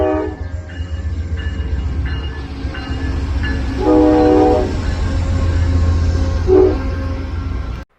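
An Amtrak Vermonter passenger train rumbles past at a small station without a platform, sounding two loud horn blasts over steady wheel and engine noise.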